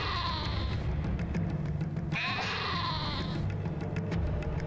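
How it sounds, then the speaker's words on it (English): Sheep in the Caesar III strategy game bleat as a herd is trampled, several overlapping nasal cries rising over a dense, busy game soundscape of rumbling and clatter. "Are we killing sheep again? Ah, oh, poor sheep, look at that, we're just trampling them."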